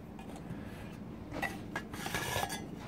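A canteen kit with its latch flipped open and its metal cup handled, producing soft rubbing and scraping, then a few light metallic clinks and taps, close and fairly quiet.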